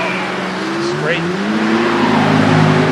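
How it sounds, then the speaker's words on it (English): A Lexus IS300 with an LS V8 engine swap revs at a car meet, its engine note rising and holding loud and close amid crowd noise, with people talking over it. "Oh, that's the LS swap. IS300."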